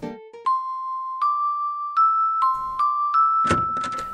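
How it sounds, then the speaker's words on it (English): Bells chime after a door opens in the Quest for Glory 4 video game, a sequence of clear ringing electronic tones rising step by step, about seven distinct strikes, ending in a louder clattering flourish. "The bells are the same every time"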